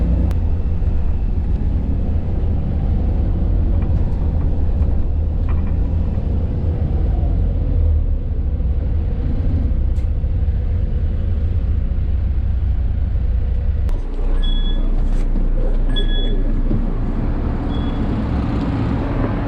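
Steady low rumble of a lightly occupied city bus in Sydney as it rides through traffic, constant engine and road drone throughout, with a few faint brief tones and clatters near the end.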